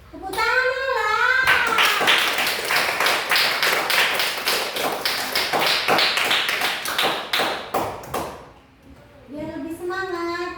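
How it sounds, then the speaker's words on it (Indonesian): A school class claps hands together in a fast, even rhythm for several seconds in a classroom. The clapping is loud and close, and a voice speaks before and after it. "Tepuk tangan dulu lah."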